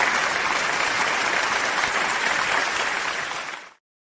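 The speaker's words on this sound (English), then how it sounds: "That's the masses there clapping for Ted's arrival back" A large crowd claps steadily and densely, holding at an even level for several seconds before cutting off abruptly, greeting a football figure's arrival.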